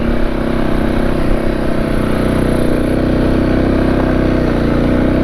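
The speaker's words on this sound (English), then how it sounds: "If I didn't have any gear on this bike, I'd be going faster than what I am" A loaded motorcycle carrying riding gear rolls along the TransAmerica Trail, its engine droning loud and steady at a constant pace with a slight rise in pitch, close to the rider and without talk.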